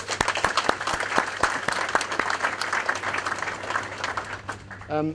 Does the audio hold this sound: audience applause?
yes